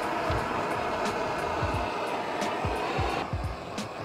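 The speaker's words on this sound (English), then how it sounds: "It is best to use a heat gun, but all I have was this torch." A handheld torch heating shrink tubing over hose clamps on PVC pipe, giving a steady roaring hiss throughout, with faint low thumps and knocks underneath and no speech.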